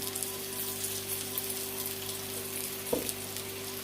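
Soft, steady sizzling of spinach and cheese gözleme flatbread frying in a little oil, with a constant low hum and a brief clatter near the end.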